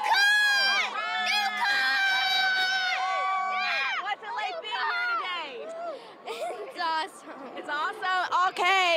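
A huge crowd of tens of thousands lines a UConn men's basketball championship parade, with cheering and shouting heard close and loud, broken by whistle-like tones, and a reporter talking over the noise.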